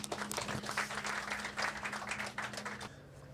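Applause from the audience at an annual award night and mushaira welcomes a speaker to the stage, a dense patter of clapping that holds for nearly three seconds before dropping away, with a steady low hum running beneath.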